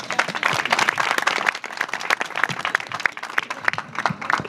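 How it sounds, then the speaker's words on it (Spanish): An audience at a mayoral campaign launch in Colbún applauds in a brisk burst of clapping, fairly close and continuous, with individual hand claps popping out of the crowd sound. "Un aplauso para ella, por favor."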